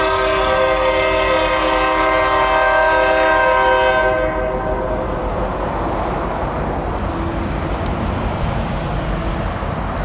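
A loud CN train horn blares for several seconds, then gives way to the heavy rumble and clatter of the train passing close by.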